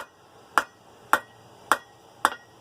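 Four evenly spaced, sharp metallic hammer blows ring out while a steel slot punch is forged down to a taper, each strike brief and bright against a quiet background.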